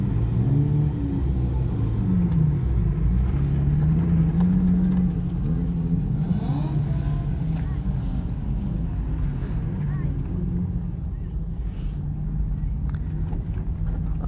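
Infiniti G35 engine droning and revving while drifting on a track, a steady low rumble with rising and falling pitch as the throttle swells, with wind buffeting the microphone and someone talking over it.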